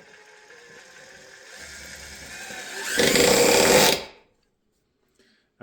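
A Milwaukee M18 Fuel Surge hydraulic impact driver whirs and buzzes, building to a louder grinding burst for about a second as a construction screw is driven, then stops abruptly into silence.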